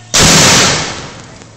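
A military mortar fires in Sumisip with a single loud, sudden blast booming close by, then a rushing roar that slowly fades over about a second.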